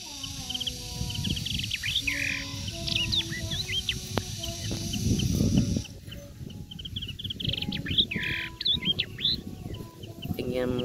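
A tame yellow-eyed babbler sings close by in a varied series of sharp chirps, whistles and trills, with busy background rustling and clatter and occasional other faint calls.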